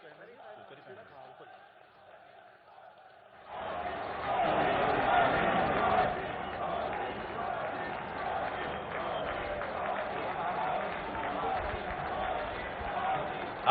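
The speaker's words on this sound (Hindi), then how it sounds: "आइए इस अभिनंदन को अपनी करतल ध्वनि से गुंजायमान करें" A large crowd at a tribal pride day rally on a Bhopal ground cheers and applauds the Prime Minister, a dense roar swelling in after a quieter stretch and holding steady and distant.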